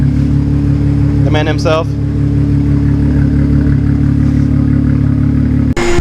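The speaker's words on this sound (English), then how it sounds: "Alright guys, so y'all heard the exhaust." A BMW M240i with a B58 engine and a EuroMpire custom exhaust runs close and loud with a steady deep drone. Someone speaks briefly over it.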